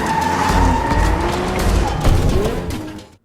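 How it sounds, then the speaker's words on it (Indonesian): A car speeding away from police with tires skidding and squealing over a rumbling engine, loud and close, in a film chase scene. "Rory segera menggaspol mobilnya untuk menghindari mereka"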